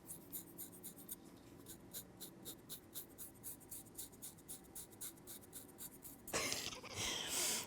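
A dermaplaning blade scrapes lightly across facial skin in close ASMR style, making quick soft repeated strokes in a steady rhythm. A brief louder rustle comes near the end.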